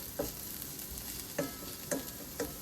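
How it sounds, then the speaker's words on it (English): Chopped vegetables toast in a skillet for vegan sloppy joes, giving a soft, steady sizzle with four distinct spatula clicks spread through it; no voices. "we just gonna kind of toast these up, y'all. Let them cook, get soft."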